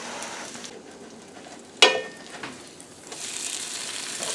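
Zucchini carrot fritters fry in oil in a pan with a soft, steady sizzle and crackle, broken by one brief louder clatter, the hiss swelling slightly toward the end.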